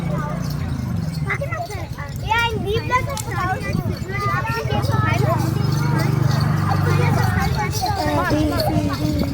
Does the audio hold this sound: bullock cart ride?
yes